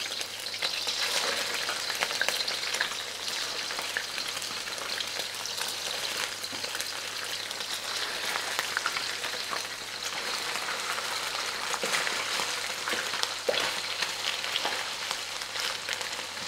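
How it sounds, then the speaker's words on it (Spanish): Fish bones frying in hot oil in a home kitchen for marmitako, giving a steady, even sizzle and crackle that runs without a break at moderate volume, with no voices. "Las raspas las vamos a freír para que suelten"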